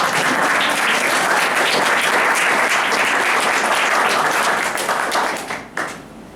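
An audience at a two-day children-and-parents gathering claps in loud, dense applause that holds steady, then tapers off near the end.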